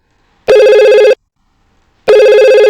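A telephone rings during a test call to a configured extension: two loud electronic rings, each under a second long, separated by silence.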